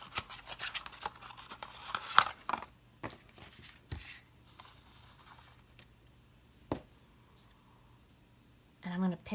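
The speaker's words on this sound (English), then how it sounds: "take this really pretty polka dotted tulle ribbon, and I'm going to just cut a little bit" Scissors snipping polka dotted tulle ribbon in a papercraft setup, a few soft close cuts and rustles amid quiet handling noises, with talking partway through.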